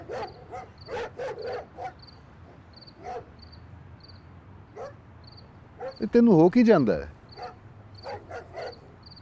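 A dog barks several times at a distance amid steady cricket chirping. People talk over the barks, with one louder, sharper burst of voice partway through.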